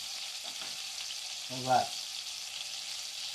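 Meatballs frying in a pan with onion, a soft continuous sizzle throughout, with a brief spoken question partway through.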